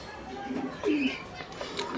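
Domestic pigeons kept at a home loft give a soft, low coo close by, one clear rolling call in the middle, with faint chirps and a quiet voice talking in the background.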